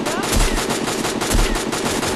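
Rapid automatic gunfire from a video game shooter, loud bursts rattling continuously with heavier thumps roughly once a second, played over a busy game soundscape.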